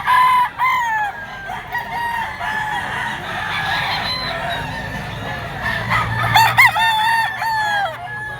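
Two-year-old yellow-legged gamefowl broodcock rooster at a game farm crowing loudly and close, with clucking and further crows from other fowl around it and no talking.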